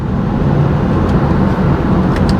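BMW 428i coupe with a 245 hp engine accelerating gently, a loud steady low engine drone and road rumble from inside the cabin, without rising revs, and nobody speaking.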